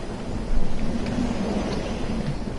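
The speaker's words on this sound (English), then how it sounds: "So windy." Strong wind and storm roar high up on a rooftop in the Assassin's Creed video game, a dense, steady rushing that surges loudly after a brief quieter start and keeps blowing without pause.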